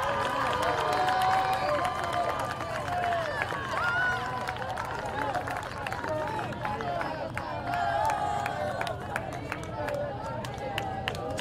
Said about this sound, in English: Grambling State, how about a big round of applause for Tatiana Robinson?